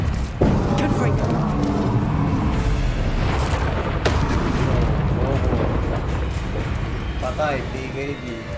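A Confringo fire spell bursts in Hogwarts Legacy with a loud booming blast, followed by sustained rumbling and crackling game effects while a player talks over it.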